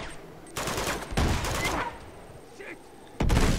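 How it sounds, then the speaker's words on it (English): A grenade is thrown at enemies in the Uncharted 2 video game, with rough bursts of gunfire and a heavy blast closing the sequence, loud and close within busy game action. "Let's see if I can throw a grenade from over here."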